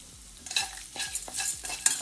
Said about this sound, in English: in this hot seasoning add ginger. Mix it well.